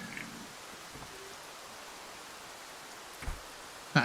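Steady rain falls during a rooftop scene in the video game Escape from Tarkov, a faint, even hiss broken by a couple of soft knocks.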